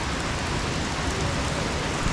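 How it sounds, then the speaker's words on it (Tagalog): A sudden heavy downpour makes a dense, steady hiss of rain on surfaces, loud and unbroken, with no voices. "So biglang umulan,"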